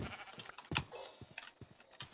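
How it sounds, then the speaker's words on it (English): Sheep bleat in the video game Minecraft, a couple of short bleats mixed with clicky game sounds and small tapping noises, with no voice over them. "Come here, sheep."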